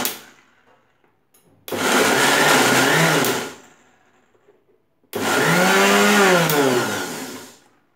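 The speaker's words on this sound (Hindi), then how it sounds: "मिक्सी घुमा लेंगे।" A kitchen mixer grinder blends cake batter with butter in two separate bursts. Each is a loud whirring roar of about two to three seconds with near silence between, and the motor pitch shifts as the batter churns.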